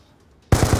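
Burst of rapid gunfire from a shotgun in a multiplayer video game shooter, starting abruptly after near silence with loud repeated blasts in a quick rhythm.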